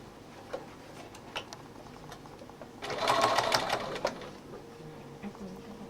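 A sewing machine stitches along the edge of a stiff fabric bag, with a faint ticking run that swells into a louder mechanical whir for about a second before settling back.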